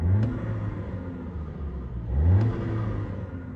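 A VW Arteon's engine revs twice, each a rising, rumbling surge with a short turbo flutter at the top, separated by a steadier idle-like drone, heard close with no talk.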